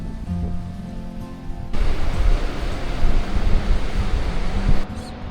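Fast, narrow mountain river rushing through a valley on the Everest Base Camp trek, a loud steady broadband roar that swells louder midway, with no talking.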